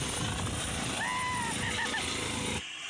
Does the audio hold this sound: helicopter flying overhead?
yes